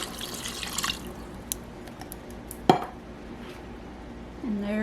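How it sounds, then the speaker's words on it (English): Chicken broth poured into a pot on a home stove, a brief liquid splash and pouring rush at the start, then faint kitchen clatter and a sharp knock, quiet and close. "add chicken broth and water to the pot"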